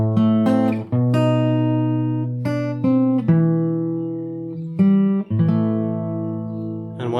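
Fingerstyle guitar plays the outro of a main theme, alone and close, with plucked bass notes and ringing melody tones in an unhurried, steady phrase.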